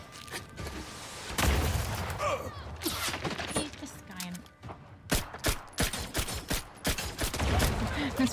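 Rifle fire in The Saboteur, a series of sharp shots and bursts that start and stop, with loud battle sounds in the background and a person speaking now and then.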